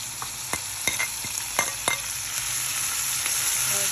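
Tomatoes, carrots and peppers frying in a pan with a steady hiss, broken by several sharp scraping taps of a utensil stirring them in the first half, then a continuous sizzle alone.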